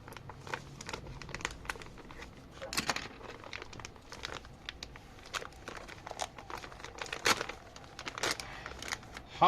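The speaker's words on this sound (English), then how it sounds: "Let me grab a pencil and open this thing up." Crinkling and tearing of plastic packaging as a delivered parcel is opened with a pencil, close and irregular with repeated crackly bursts and rustles throughout, no voices.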